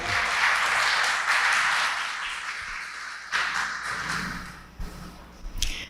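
A room full of people claps in a steady wash of applause that gradually thins out, with a few stray taps near the end.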